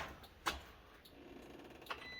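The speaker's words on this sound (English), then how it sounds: "That's the relay clicking, the power in and out." Faint, sharp clicks, two distinct ones about a second and a half apart, over a quiet hum, like a relay switching on and off.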